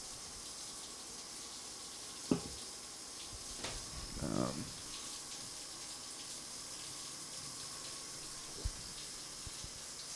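Shower water runs steadily as a constant broadband hiss, close and fairly loud, broken by a few brief knocks and splashes; one short murmured voice is heard.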